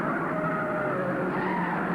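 Race car skidding in a 1951 modified sportsman race at Langhorne, a loud sustained tire squeal over engine roar.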